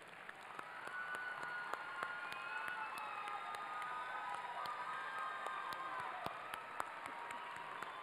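Applause fills a university commencement ceremony as graduates clap for their families, a dense, steady patter of many hands heard from a distance with faint cheering mixed in.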